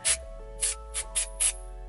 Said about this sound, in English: I'm just going to take my texture tease spray